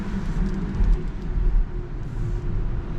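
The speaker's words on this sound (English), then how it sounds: "Now you can hear the sound this car is making," A Renault Megane E-Tech EV60 2023 electric car rolling on winter tires at night, giving a steady low rumble of tire roar and road noise from inside the cabin, with slight swells but no engine note and no talking.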